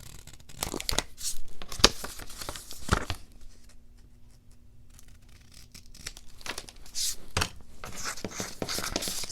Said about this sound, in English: I'm going to cut that to fit.